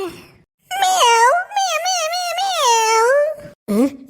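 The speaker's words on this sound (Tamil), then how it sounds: "என்ன பூனை சத்தம் கேக்கு" A cat meows loudly and close by, a long drawn-out wavering cry followed by a short second meow.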